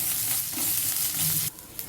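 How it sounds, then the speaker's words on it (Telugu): Chopped onion pieces with a little curry leaf fry in a pan, a close, busy sizzle with stirring scrapes that drops off sharply partway through, then continues more quietly. "చూడండి, ఉల్లిపాయ ముక్కలు ఈ విధంగా వేగాలి."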